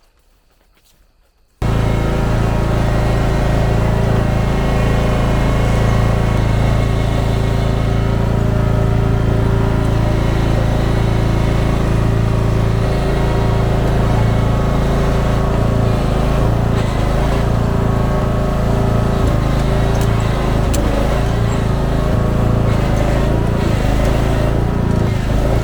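A chainsaw mounted on a pole, used to clear a hiking trail, starts up after a moment of quiet. It then runs with a loud, steady, close engine drone for over twenty seconds.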